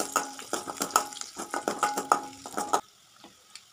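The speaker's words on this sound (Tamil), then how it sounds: "வெங்காயம் போட்டு வரமிளகாய் போட்டு நல்லா வதக்கி விட்டுட்டு" Onions and dried red chillies being sautéed in a little oil with mustard seeds and urad dal, a quick run of metallic spatula scrapes and clinks against the pan, close and busy, then stopping abruptly into near quiet.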